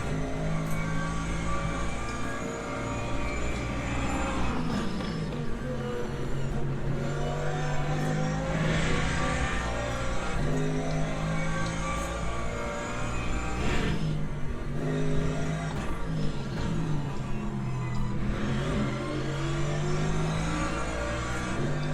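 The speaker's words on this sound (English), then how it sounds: "LMP2 coming through." An LMP2 prototype race car in the Le Mans Ultimate sim racing game, engine revving up and down through gear changes as it comes past, steady mid-level engine noise with rising and falling pitch sweeps.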